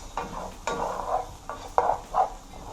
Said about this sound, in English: So we're going to saute all these seasoning now.